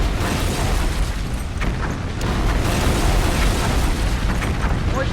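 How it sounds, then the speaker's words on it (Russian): A massive video game explosion tears through a cargo ship, a dense, steady roar of blast and rumble that fills all five seconds with no speech. "Мощный взрыв на грузовом корабле."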